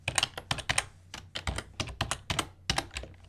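Quick bursts of typing on a computer keyboard, crisp close key clicks in uneven clusters with short pauses between them.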